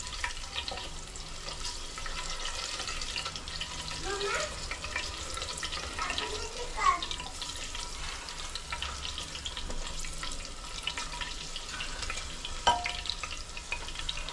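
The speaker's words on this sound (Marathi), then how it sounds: "तीन हिरव्या मिरच्या त्यामध्ये टाकलेले आहेत थोडं परतून घ्यायचं आहे" Three green chillies sauté in oil in a pan for a Kolhapuri chicken pandhara rassa, a continuous crackling sizzle with faint stirring and a few clinks, over a noisy kitchen background.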